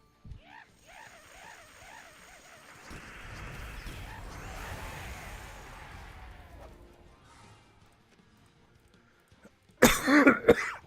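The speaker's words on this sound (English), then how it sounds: "Gosh, this cough." A person coughs a few times and clears their throat, faint and nearby, followed by a quiet stretch and then a louder burst of coughing near the end.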